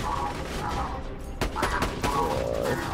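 A gun fires in rapid bursts in Borderlands 2, with close, sharp shots in quick succession and mechanical clatter running through the short burst of combat.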